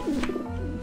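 A pigeon at a dish vent in the Grim Fandango video game gives a short, warbling, throaty coo, close and clear over low background hum.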